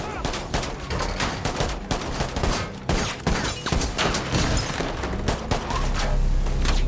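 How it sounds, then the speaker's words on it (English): Sustained gunfire from a film shootout in which two men trade shots, one trapped in a vehicle: dense, rapid bursts of shots and booms running nonstop and loud throughout. "John starts shooting at Tom"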